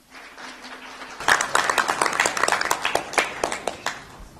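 An audience at a formal award ceremony breaks into applause after a short quiet lead-in, a dense patter of many hands clapping close by that swells and then continues steadily.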